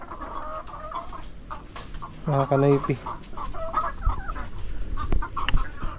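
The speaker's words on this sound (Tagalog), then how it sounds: "yan yung mga manok ko ngayon" Chickens clucking nearby, with a burst of louder, drawn-out cackling in the middle; someone speaks briefly over the flock.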